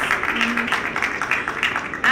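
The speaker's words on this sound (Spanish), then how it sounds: "Un aplauso, por favor" Audience applause at the Premios Fénix 2018 awards ceremony, a dense, even wash of clapping carrying through the hall, with a voice briefly heard over it near the end.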